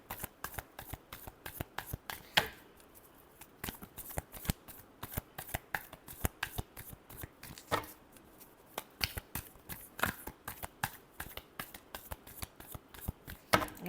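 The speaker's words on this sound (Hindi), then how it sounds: "Last shuffle." Tarot cards are shuffled by hand up close, giving quick crisp riffles and soft slaps in irregular bursts with brief pauses between them.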